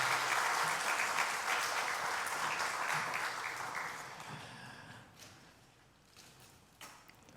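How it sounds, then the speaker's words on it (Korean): A church congregation bursts into warm, sustained applause to bless a family standing before them. The clapping is full at first, then gradually fades away over several seconds. "우리 수고하셨다고 축복 한번 박수하겠습니다"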